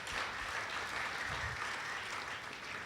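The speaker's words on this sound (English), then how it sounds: "Please, a round of applause for the GTEX team." Steady, dense applause from a conference audience honoring the GTEX team at a developers and investors event, sustained evenly for several seconds with no break.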